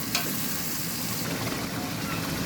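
Spice paste with garlic and onion frying in oil, a dense continuous sizzle close by with one brief scrape of a spoon near the start and no speech.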